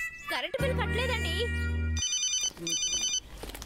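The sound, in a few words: mobile phone ringtone ringing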